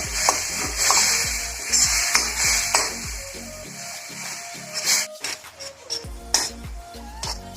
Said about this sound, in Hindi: हमें इसको तब तक कढ़ाई में भूनना है जब तक कि हल्का ब्राउन नहीं होता